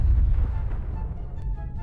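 A bomb detonating underwater in Garry's Mod, heard from far across the map: a loud, deep rumbling boom that rolls on and slowly fades, with a faint sharper burst near the end.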